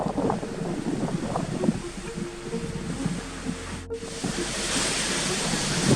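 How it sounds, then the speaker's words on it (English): Strong wind roars across an exposed mountain summit, a continuous rushing buffet that batters the microphone, loud and steady throughout. "This wind is whipping."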